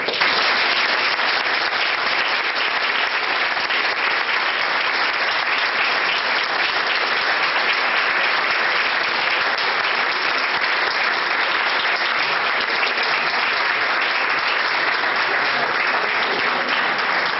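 An audience at a 1998 tribute event applauds in sustained, dense clapping that stays loud and even for the whole stretch, with no voices breaking through.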